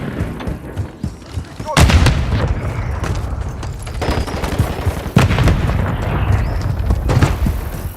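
Grenade blasts and gunfire from Call of Duty MW III hit as heavy booms, with two strong impacts followed by rumbling bursts of shots, loud and close, while game voices call out in between.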